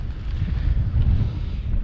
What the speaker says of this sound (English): The wind's 32, gusting 39,